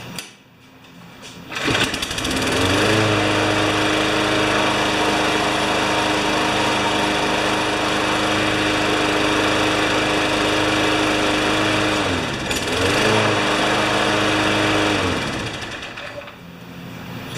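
A Craftsman lawn mower with a bad primer bulb runs loudly and steadily up close, a buzzing engine drone that dips briefly once before recovering, with no voices over it.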